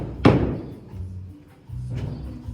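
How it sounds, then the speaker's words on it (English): Hammer blows from construction workers framing a house with bay windows, one sharp loud bang followed by duller thuds spaced apart, heard alone with no talk. "If you hear them banging, that means they're working."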